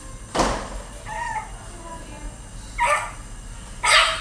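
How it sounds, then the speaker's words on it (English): A Chihuahua barks in four short, sharp yaps spread unevenly over a few seconds, loud and close, over low background noise. "It's a Chihuahua."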